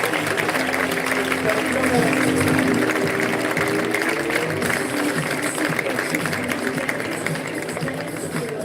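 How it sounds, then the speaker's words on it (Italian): An audience applauds the Moco volleyball team at a Veneto volleyball celebration. A continuous, dense wash of clapping runs throughout, with voices talking over it. "L'applauso."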